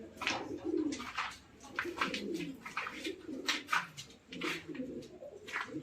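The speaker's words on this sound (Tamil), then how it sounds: "இது பாருங்க, எல்லாம் வந்து சாதா புறாங்க." Ordinary pigeons in a loft coo steadily and softly, with repeated low rounded calls overlapping one another against a faint background hiss.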